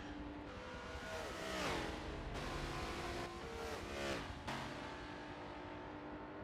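Race cars lapping a road course in an endurance race, one of them a turbo-powered Ford, make a loud, continuous engine roar that climbs and falls through gear changes, with pitch sweeps from passing or shifting cars and no voices.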